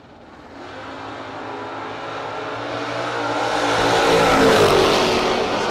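Drag race cars, one a Mopar, launch at a no-box racing event: loud engines roar and build steadily, swelling louder toward the end with no voices.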